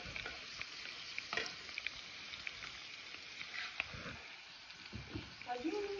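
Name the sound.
okra frying in a pan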